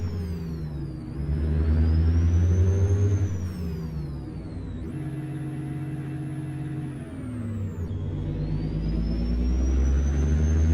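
A heavy truck engine in the video game American Truck Simulator drones and revs in steady layered tones, pitch shifting up and down as gears change, with a high whine riding above the rumble.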